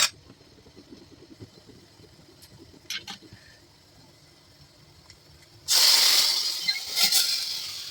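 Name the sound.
tempering spices sizzling in hot oil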